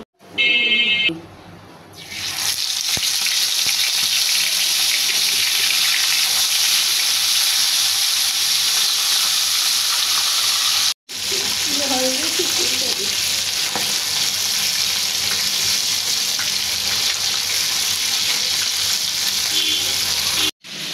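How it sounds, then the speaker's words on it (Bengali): Pangas fish fry in hot oil in a pan with a loud, continuous close-up sizzle and hiss that drops out for a split second near the middle, then resumes. "এখন আমি মাছগুলি ভাজবো।"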